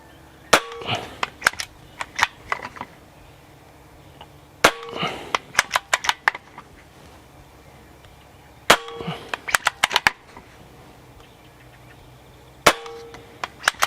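Benjamin Armada 5.5 mm air rifle (20 joules) firing four sharp shots at a steady spacing of about four seconds, each crack followed by a brief cluster of metallic clicks and rattles, with quiet between.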